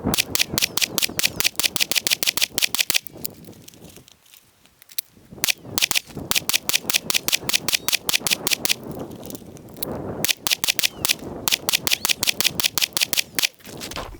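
Rapid pistol gunfire outdoors, fired with a weapon light attached, in fast loud strings of sharp cracks separated by short pauses for magazine changes, several magazines emptied in a row.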